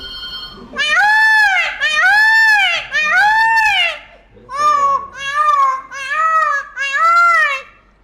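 Someone mimics a peacock's call with a series of loud, wailing, nasal cries: three long ones, then four shorter ones in quick succession, all close and clear.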